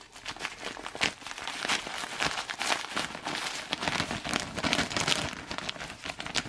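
Dry food from a 1981 Assault 24 Hour MRE food packet being crumbled inside its packet, a dense, steady crinkling and crackling of packaging and crumbs that runs close and loud throughout.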